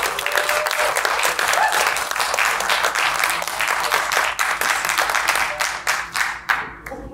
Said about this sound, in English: with that roar of approval from the crowd